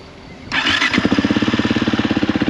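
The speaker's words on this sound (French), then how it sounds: "tu vas commencer par démarrer la moto" A motocross motorcycle engine fires up after a brief quiet moment, then settles into a loud, close, rhythmic idle with a steady pulsing beat.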